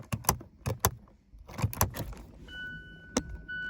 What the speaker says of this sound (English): You can hear the parking brake going back.